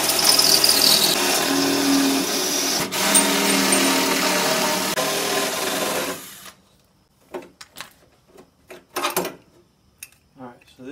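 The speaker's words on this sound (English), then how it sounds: "we're going to take our drill and drill the old rivets out" A power drill drilling the heads off old rivets on a dump trailer latch whines loudly and steadily for about six seconds, then stops, followed by several short clicks and clattering taps of metal.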